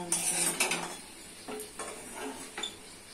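Potatoes being stir-fried with spices in a pan, mostly spatula scrapes and clinks against the pan in short irregular bursts, with only a faint low sizzle underneath.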